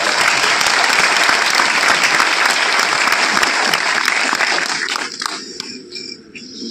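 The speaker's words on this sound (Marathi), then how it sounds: "जोरदार टाळ्या." A large audience gives loud, dense applause that holds strong for several seconds, then thins out and fades toward the end.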